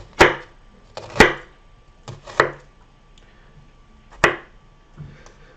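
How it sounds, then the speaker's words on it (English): A knife slices down through an onion from the top, making about five crisp, separate chops on a cutting board at an uneven pace, close and clear with no talking. "we're going to make small cuts from the top down through the onion"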